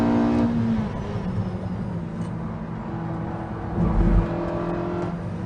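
A heavy, fast car's engine pulls steadily in third gear up a hill, a continuous loud drone with a brief swell in effort toward the end, alone with no talk.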